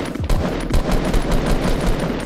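Fortnite gunfire plays as a rapid burst of loud, close shots in a quick irregular rhythm over steady game background noise.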